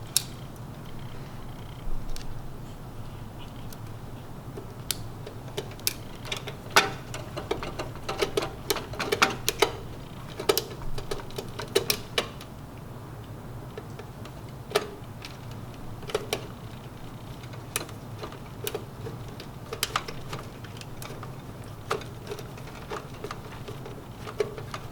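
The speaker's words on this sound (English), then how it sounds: "reconnect the element wires to the terminal block and tighten them with the Phillips screwdriver" Phillips screwdriver tightening element wire screws on the terminal block of a Star two-sided grill, heard as scattered sharp ticks and scrapes over a steady low hum, with no talking.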